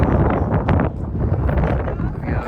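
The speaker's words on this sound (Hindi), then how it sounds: "बहुत तेज़ हवा चल रही है भाई, बहुत ज़्यादा तेज़।" Strong wind at a beach in Büsum buffets the microphone in a constant loud roar, rumbling and gusting throughout.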